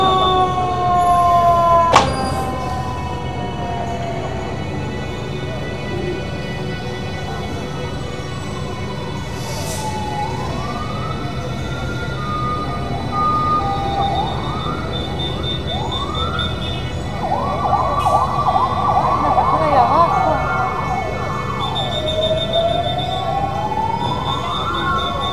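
A fire engine siren wails and yelps as the truck arrives at a street accident scene where a woman is trapped under a city bus, rising louder amid steady traffic rumble.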